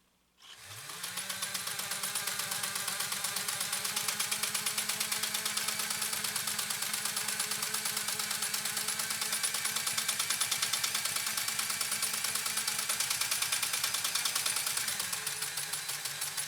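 A restored PFAFF 130-6 sewing machine runs steadily with a dense rapid mechanical clatter and motor hum, close and continuous, easing down and picking up speed before cutting off near the end.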